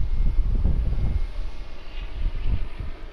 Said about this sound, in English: This might be the Emirates Airbus A380 arrival